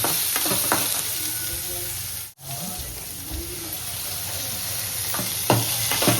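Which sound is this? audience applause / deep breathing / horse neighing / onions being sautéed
onions being sautéed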